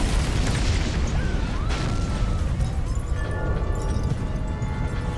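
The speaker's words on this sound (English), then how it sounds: "The largest on-camera explosion in the film takes place in the middle of the city" A large special-effects explosion set off in the middle of a city for a film shoot gives a heavy sustained roar and rumble, with faint tonal whines and sirens rising through the dense noise.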